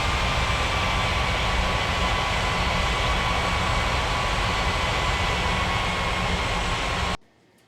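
An airliner landing on runway 18 at an airport, a loud continuous engine roar with a steady whine that holds without change, then cuts off abruptly near the end.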